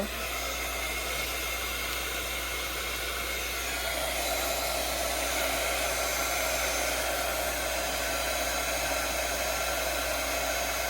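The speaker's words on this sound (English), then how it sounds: "We're going to grab our heat embossing. Now this is going to be a bit loud." Steady loud blowing hiss of a heat embossing tool running continuously, like a small hair dryer, with no speech over it.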